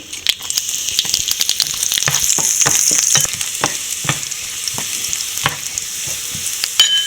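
Dried red chillies and small shallots are dropped into hot oil to temper a roasted-coconut prawn theeyal, setting off a loud, continuous sizzle broken by sharp stirring clicks and scrapes.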